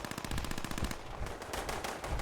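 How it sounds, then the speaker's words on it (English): Sustained machine gun fire in a Fallout-style combat game mission, loud rapid bursts of automatic shots rattling continuously with brief breaks, no talk over it. "I'm hearing gunfire, but not seeing any bodies."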